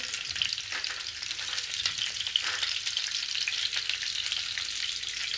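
Cauliflower pieces frying in hot oil in a pan: a dense, even crackling sizzle that carries on steadily at close range, with no voices.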